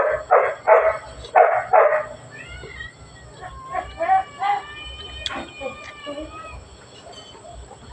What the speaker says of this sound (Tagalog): Maingay lang ang aking aso.